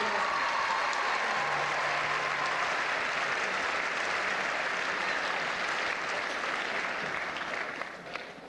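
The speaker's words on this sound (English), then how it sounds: "So, another round of applause for Jeff." An audience claps at a middle school orchestra concert, a steady, full round of applause that holds loud throughout and thins out in the last moment.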